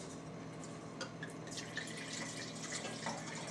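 Water runs for a quick rinse beside a wine tasting, giving soft, close trickling and light splashing with a few small drips over a low background hum.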